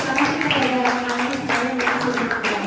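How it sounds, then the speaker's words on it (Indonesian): Students in a school classroom clap their hands together, a steady burst of applause mixed with the murmur of voices. "Oke, tepuk tangan dong untuk teman-teman"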